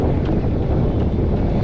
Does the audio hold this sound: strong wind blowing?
yes